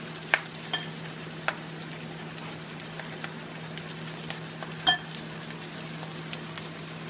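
Salmon patties frying in a pan, a soft steady sizzle with a few sharp pops and crackles scattered through it, heard close and with no talk.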